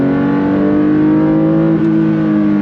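Porsche 911 S/T flat-six engine with a lightweight flywheel, loud and close from inside the car, holding a steady strong drone, then a brief dip and pitch drop at a manual gear shift before pulling on again.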